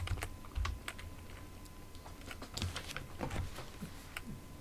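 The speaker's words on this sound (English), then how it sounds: "I'll type it all out" Typing on a computer keyboard in short bursts of crisp clicks with small pauses between, close and soft, and nobody speaking.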